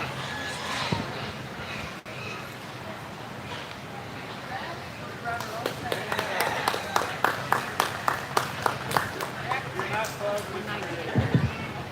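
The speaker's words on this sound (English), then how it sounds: "let's give these intermediates a round of applause" Applause for intermediate swine showmen at a 4-H and FFA county fair swine show, a broad crowd clapping that swells midway into sharper, rhythmic claps over busy arena background.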